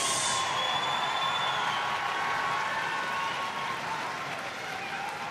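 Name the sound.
audience cheering and applauding at Crufts flyball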